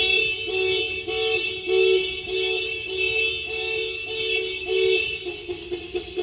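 An aftermarket car alarm on a 1991 Honda Civic sounds off in a loud, repeating pulsed warble, cycling steadily about once a second without any voices.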